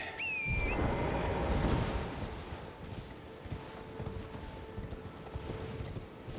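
Horse hooves clip-clopping in Elden Ring, a steady galloping patter with a whinny-like rising tone at the start, under continuous game ambience and music.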